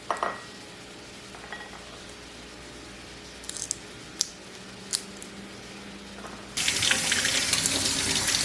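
Shelled fresh peas in a kitchen sink: a few soft clinks and handling noises, then a tap gushes loudly and steadily over them for the last couple of seconds.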